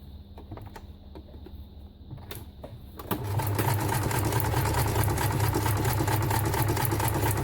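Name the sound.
small sewing machine stitching fabric scraps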